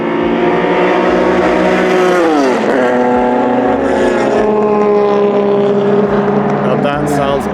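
Nissan Skyline Hakosuka race car engine howls loudly at a race circuit, pitch sweeping down then climbing steadily as it loops around a turn, a rich, sustained multi-harmonic wail close by.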